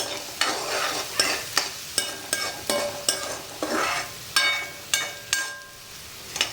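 Onion frying over a fairly high flame for a chickpea-greens bhaji, with a spoon scraping and stirring the pan in steady strokes about twice a second over a continuous sizzle.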